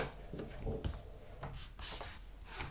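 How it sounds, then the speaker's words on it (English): A ScanNCut cutting machine unloads its cutting mat, producing soft close rubbing and sliding noises with a low mechanical hum and a few brief scraping bursts, fairly quiet overall. "So now I'm going to unload the mat."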